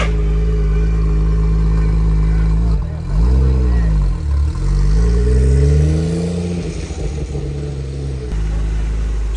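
A Nissan GT-R engine on a dyno idles with a deep, loud rumble, then is blipped in rising and falling revs that swoop up and down a couple of times before settling back to a steady idle, close by.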